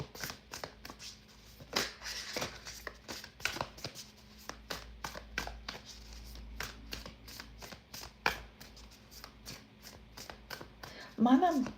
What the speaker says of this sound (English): Another nice deck that's good to shuffle.